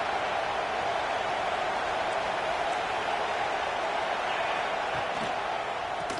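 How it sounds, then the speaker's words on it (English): Steady roar of a packed stadium crowd in the NCAA football video game before a Notre Dame opening play, broad and continuous at moderate level for several seconds with no distinct voices. "This crowd ready to make its presence known."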